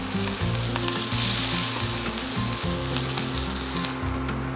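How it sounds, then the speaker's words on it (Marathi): Onion frying in a kadhai with a pinch of salt for restaurant-style kadhai paneer, a steady close sizzle running throughout under music, with no talking. "आणि कांदा फ्राय करून घेऊयात।"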